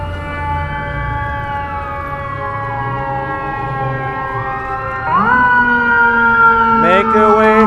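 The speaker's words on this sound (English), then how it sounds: "Sounds like an ambulance and a fire truck." An ambulance and a fire truck pass along a Manhattan street with sirens sounding, long swooping wails that grow louder partway through as a second siren joins, with horn blasts near the end and faint background voices.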